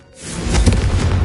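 A Confringo spell blast in Hogwarts Legacy: a fiery booming burst that swells in after a brief quiet start and rumbles on loudly, with a whooshing edge.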